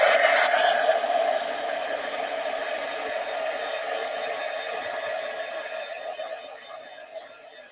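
A heat tool blows steadily while drying a Kraft-Tex craft piece, a loud whirring hiss that starts strong and gradually fades toward the end.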